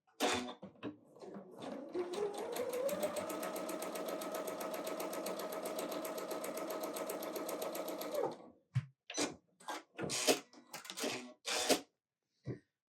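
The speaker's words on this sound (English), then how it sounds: "let's sew these together and then I'll show you the next step" A sewing machine stitches quilting fabric pieces together in one long, steady run of rapid mechanical clatter lasting about eight seconds, then stops, followed by scattered handling clicks and thumps nearby.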